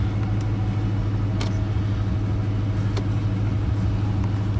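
A 2019 Dodge Charger Police with a 5.7 HEMI V8 and AWD runs with a deep, steady low rumble, close and fairly loud, with a couple of faint clicks over the engine and no voices.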